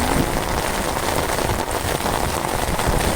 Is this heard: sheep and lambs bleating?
no